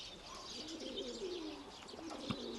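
Pigeons coo in a low, steady murmur through a quiet stretch, soft and continuous, with faint higher chirps and one brief knock near the end, and no voices.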